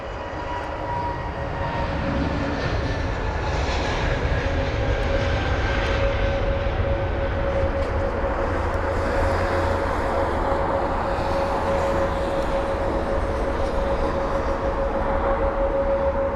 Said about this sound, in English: There goes that BA320 Neo.